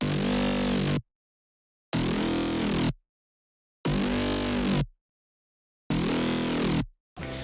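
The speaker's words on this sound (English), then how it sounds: "This dubstep growl, it makes a world of a difference" Four loud bursts of gritty, wobbling dubstep growl bass, each about a second long and separated by abrupt silences, snarling and mechanical in tone.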